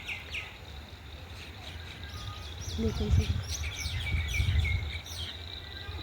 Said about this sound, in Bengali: পাখির আওয়াজ শোনা যাচ্ছে।